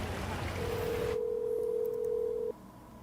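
A steady telephone dial tone sounds on a recorded phone call, holding for about two seconds after a brief burst of noise, then cutting off abruptly.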